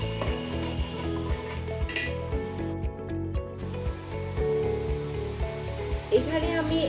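Garlic and ginger paste being stirred into onions frying in a pan for a beef curry, a steady sizzle with rhythmic scraping and knocking of the spoon against the pot, continuous and close.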